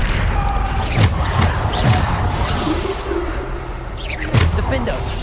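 Spell blasts from the Bombarda charm in the Hogwarts Legacy video game, several booming impacts with whooshes recurring every second or so amid dense combat sound and a voice speaking.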